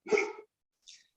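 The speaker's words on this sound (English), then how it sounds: "Pardon my dog there." A dog gives a single short bark close to the microphone during a live online discussion, followed by a fainter, higher yip or whimper a moment later, with no talking over it.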